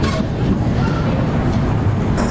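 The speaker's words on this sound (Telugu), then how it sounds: "ఝాన్సీ స్టేషన్లో ట్రైన్ ఆగింది." A passenger train stands at Jhansi station in scorching summer heat, giving off a loud, steady mechanical rumble and hum, close by and continuous, with no spoken words.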